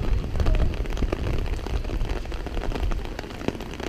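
Steady rain falling at the Red Rock Amphitheater, a dense, continuous hiss of drops on hard surfaces filling the space evenly, loud and close, with no voices over it.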